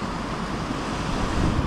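North Sea surf washing in over rubber boots on a beach in December, a steady close rush of water and wind noise, loud and unbroken for the short moment.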